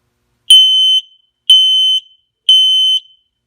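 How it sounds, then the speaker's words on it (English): A combination smoke and carbon monoxide detector with voice sounds its smoke sensor test: three loud, piercing electronic beeps, each about half a second long, evenly spaced and close to the unit, with silence between them. "The alarm will sound loudly."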